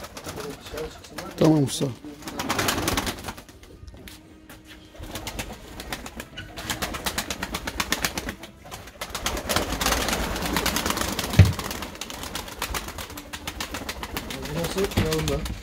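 Pigeons and young pigeons coo in a coop, soft low calls scattered through the scene while someone talks nearby over them.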